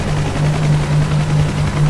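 A helicopter in the DCS World flight simulator hovers with a loud, steady rotor thump and a continuous engine drone throughout.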